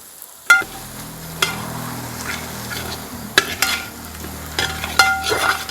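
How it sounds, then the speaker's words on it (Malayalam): Spice masala with turmeric and garam masala fries in a pan for golden chicken, a continuous sizzle broken by several sharp stirring scrapes and clinks of a spoon against the pan. "നമ്മുടെ മസാലകളെല്ലാം നന്നായിട്ട് വഴണ്ട് വന്നിട്ടുണ്ട്"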